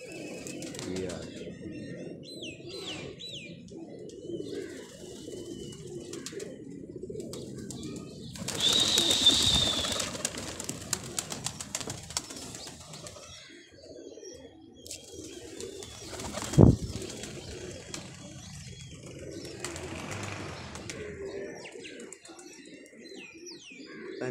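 Soft pigeon coos and a burst of wing flapping among ambient outdoor noise, with people talking intermittently and a sharp knock partway through.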